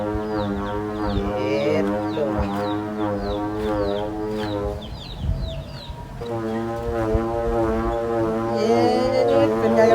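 A loud, steady droning hum with rich harmonics from the humming bow of a southern Thai kite, 80 cm, fluctuating slightly in the wind and dipping briefly in the middle before resuming.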